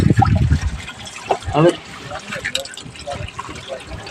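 A liquid insect-repellent brew made from aak plant is poured into a drum on a farm, the splashing trickle heard under people talking close by.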